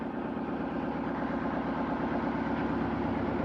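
A boat engine idles inside a built-up enclosure with a steady, low mechanical throb and rhythmic vibration, muffled and constant throughout.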